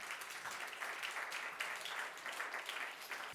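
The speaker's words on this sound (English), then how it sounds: "let's have a nice round of applause for everybody who helped out tonight" Faint, distant applause from a gathered audience thanking event helpers, a steady patter of many hands clapping throughout the short stretch.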